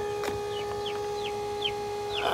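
Hens in a chicken coop let out a series of short, evenly spaced clucks over a steady electrical hum, moderately close and fairly quiet.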